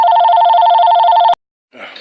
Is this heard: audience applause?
no